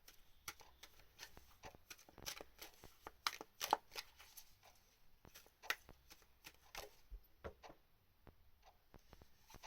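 Tarot cards from a Waite deck riffle and snap in quick bursts of crisp papery clicks and flicks, close and fairly quiet, with irregular pauses between shuffles and a card being drawn.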